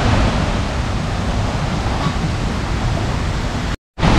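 Artificial beach waves at Siam Amazing Park water park wash in as a steady, loud broadband surf hiss and rush, continuous and close, with no clear voices, ending in a brief dropout.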